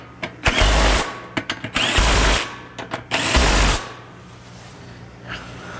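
Nuts being tightened on the transmission mount of a 2012 Subaru Forester with a power tool, close and loud: several short rattling bursts followed by longer runs that stop abruptly, then quiet.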